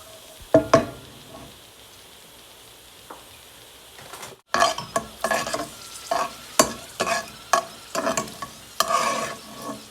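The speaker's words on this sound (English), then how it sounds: "Roasting the cashew nuts" Cashew nuts roast in a pan for an Indian lemon rice side dish, a quiet sizzle broken by repeated scraping stirs and clicks of a utensil against the pan, the stirring picking up and coming thick after a brief pause.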